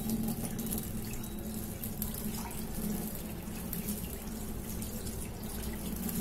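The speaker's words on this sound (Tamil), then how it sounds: "இந்த தண்ணியை கொட்டிடுவோம்." Rinse water running and splashing steadily as it is poured out after washing grains for paniyaram and dosa batter, a continuous close watery wash like liquid poured into a sink, with no voices.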